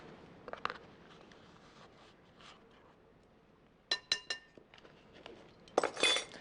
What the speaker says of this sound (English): Sift 1½ cups of all-purpose flour and 1 teaspoon of baking soda.